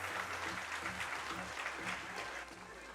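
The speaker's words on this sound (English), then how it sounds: "round of applause to Stats" Applause from an esports event audience at a Counter-Strike tournament, a steady wash of clapping that holds evenly for about two and a half seconds before easing slightly, with a low hum underneath and no talk.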